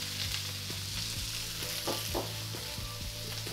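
Small whole chili peppers and whole shallots fry in a pan with a dense, steady sizzle up close, the vegetables beginning to caramelise.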